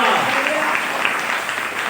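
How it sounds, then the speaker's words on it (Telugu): A church congregation applauds during a sermon, a dense, continuous wash of clapping at close range with a voice speaking over it. "అందరూ చప్పట్లు కొట్టు."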